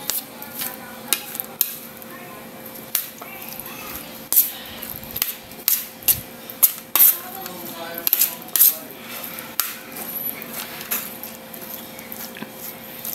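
Fish salad being mixed with cheese and mayonnaise, with soft repeated scraping and clicking of a utensil against a bowl in an irregular rhythm, close and fairly quiet, with a faint steady hum behind.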